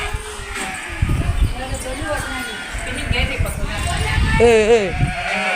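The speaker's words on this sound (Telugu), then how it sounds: "గొర్రె పిల్లలు గొర్రెలు పోతున్నాయి చూడండి" A flock of sheep bleats repeatedly, several calls overlapping, with a person talking and footsteps of passing animals in the background.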